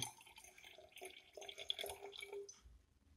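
Red chemical solution poured into a sulphide sample in a lab test, giving soft trickling and dripping liquid sounds that rise and fall over a few seconds, close and fairly faint, with no talking.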